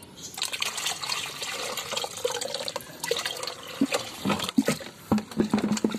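Water splashes and trickles unevenly as it is poured to water chili plants, with irregular drips and gurgles close by, growing choppier toward the end.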